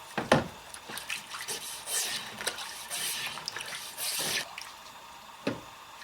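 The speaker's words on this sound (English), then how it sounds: "Just going to rinse it off in water." A wooden Viking axe handle is rinsed in water, giving splashing, trickling and dripping sounds in irregular bursts close by.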